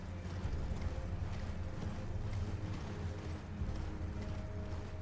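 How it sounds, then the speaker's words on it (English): Hooves of the spectral horse mount Torrent galloping in the video game Elden Ring, a steady, continuous rhythmic thudding running for about five seconds over a dense game soundscape. "Get on the horse."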